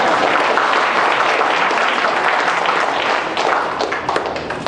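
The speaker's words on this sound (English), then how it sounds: "You can applaud." Audience applause during a Lieutenant Governor's visit to a seniors' home, a close, dense and steady clapping throughout with scattered individual claps standing out as it continues.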